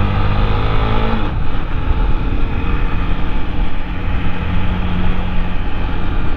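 A 2008 Honda CB 250 Twister motorcycle on a country road, its engine droning steadily under load after a gear change, with constant wind rush and no talking.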